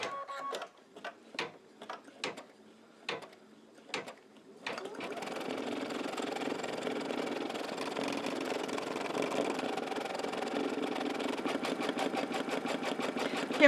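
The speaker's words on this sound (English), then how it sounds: "the first thing it's going to stitch out is a placement for the piece of Timtex" An embroidery machine stitches out a placement line for a Timtex piece on an in-the-hoop postcard: a few sharp, separate clicks first, then a steady, close, continuous whirring hum with a fast, even pulse.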